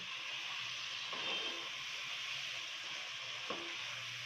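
Chicken coated with curry leaves frying in a pan, a steady close hiss of sizzling oil throughout with occasional soft clinks and stirring scrapes.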